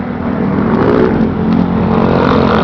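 Motorcycles and cars pass on a busy road in Intramuros during a bus trip, a loud, continuous engine roar with revving and no break.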